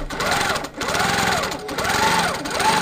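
Sewing machine stitches a spider web quilting design in a steady, fast mechanical chatter that runs continuously with slight speed swells, close and fairly loud.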